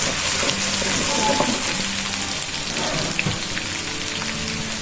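Freshly cut garlic frying in a pan for chicken shashlik rice, a dense, loud, close sizzle crackling steadily throughout with no talk.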